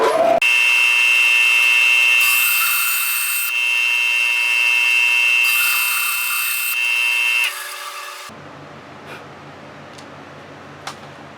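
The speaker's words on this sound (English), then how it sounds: "I'll just cut them here on the bandsaw." A bandsaw cuts pen blank offcuts with a loud, steady whining hum and two brief surges as the blade bites. It then shuts off and leaves a quiet room with a few faint clicks.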